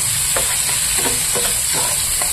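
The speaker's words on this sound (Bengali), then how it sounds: "ভেজে নেব আগে চিংড়ি মাছটা।" Small prawns frying in a pan, a continuous loud sizzle broken by soft periodic stirring scrapes.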